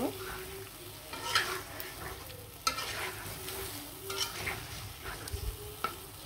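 Pieces of river rohu fish are stirred through spice masala in a pan, a soft steady sizzle under scraping spoon strokes that come in irregular bursts, close and moderately quiet, with no talking.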